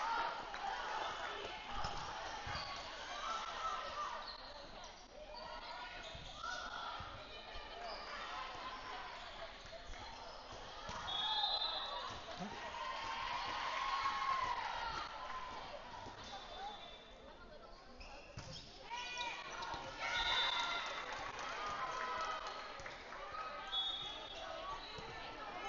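Spectators for the M1 team at a youth volleyball match fill an echoing gym with continuous chatter and scattered shouts, and a commentator's voice runs over the crowd.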